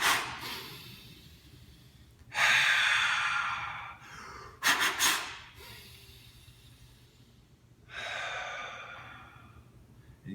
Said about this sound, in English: 3 sharp belly exhales followed by a long belly inhale